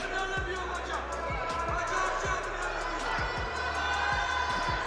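Steady crowd noise fills a para-armwrestling championship finals venue, a continuous murmur with scattered thumps and knocks, under a commentator's talk.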